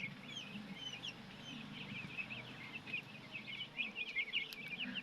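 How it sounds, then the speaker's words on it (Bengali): A flock of seven-day-old broiler chicks chirps constantly in a poultry shed, many high thin peeps overlapping at close range over a low background hum. "আজকে হচ্ছে 7 দিন চলে মুরগি"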